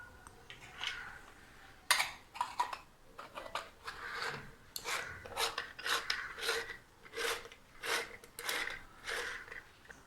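Rice flour dough for ribbon pakoda is pressed through a press into hot oil, producing close, repeated raspy grinding strokes in an uneven rhythm, with faint sizzle and no talking.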